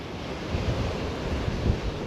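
Ocean surf rolls and breaks along the coast on the Cape to Cape track near Margaret River, a steady broad wash of waves with gusts of wind buffeting the microphone and no voices.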